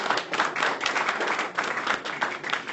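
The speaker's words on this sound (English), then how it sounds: "Round of applause for them." An event audience claps for two waitresses, a brisk, moderately loud burst of scattered hand claps that carries on steadily for a few seconds.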